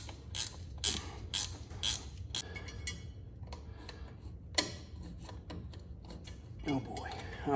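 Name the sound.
1/2-inch wrench working on a Ford 3930 tractor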